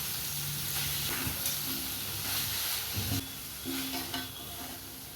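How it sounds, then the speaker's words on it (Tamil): A jackfruit seed masala sizzles and hisses steadily in a pan on the stove while a spoon stirs it, giving soft scraping strokes and a few louder clicks over the constant frying noise. "ஒரு வாட்டி கலந்துட்டு ஸ்டவ் ஆஃப் பண்ணிடுங்க."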